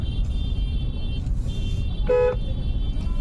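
Night road traffic near Kanpur Central station rumbles steadily, with a short, loud car horn toot cutting in midway over the continuous engine and road noise.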